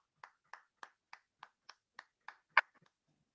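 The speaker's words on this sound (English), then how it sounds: "Round of applause for her." A handful of meeting attendees clap for a winner at a Toastmasters meeting, about nine sparse, evenly spaced claps, faint and thin, ending with one sharper louder clap.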